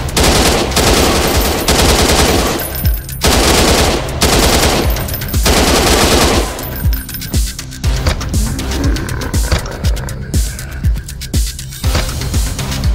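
Enemy gunfire from human attackers in The Malevolent Mansion of Evil, a 2024 PC game: loud, close bursts of rapid machine-gun fire, several long runs broken by brief gaps, then shorter choppy volleys.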